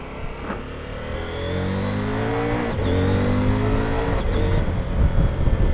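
A 2022 CF Moto 800MT motorcycle accelerating hard on a straight road, engine note climbing with quick clean upshifts from the quickshifter, each change a brief dip before the pitch rises again, heard from the rider's position with wind noise.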